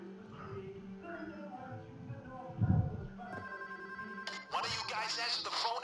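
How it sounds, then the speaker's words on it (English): A telephone rings in the heist game Payday 2, tonal ringing bursts rising over low background rumble and game noise, with a voice speaking alongside. "One of you guys answer the phone and pass me through."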